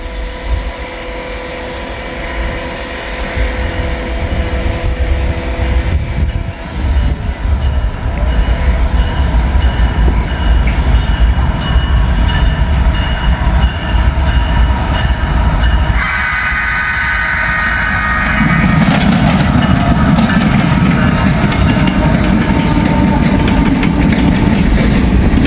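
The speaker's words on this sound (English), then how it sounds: "We got a CSX train coming." A CSX freight train passing a gated crossing in Muncie, a loud steady rumble of wheels and cars close by, with engine drone and clattering that intensify and shift partway through.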